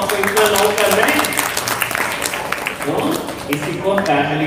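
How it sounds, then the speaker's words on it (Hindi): An audience at a spiritual talk breaks into sustained applause, a dense wash of many hands clapping, loud and continuous throughout. "ताली तो बजाइए ना"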